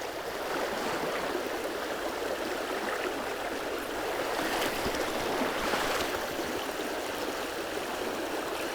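Fast, shallow river water rushes steadily over stones on a summer trout and grayling stream in Slovakia, a continuous broadband hiss with no break and no talk.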